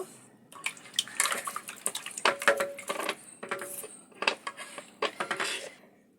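A metal spoon clinks and scrapes against a glass as rock salt is stirred into bel sherbet with lemon, in a run of irregular close, bright clinks and stirring sounds.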